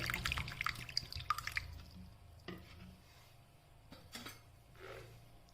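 Water poured into corn flour in a bowl, a brief splashing trickle up front, then scattered soft drips and light clinks in a quiet kitchen.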